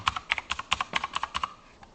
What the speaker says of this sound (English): type in a username, you can use an email address, and then enter in a password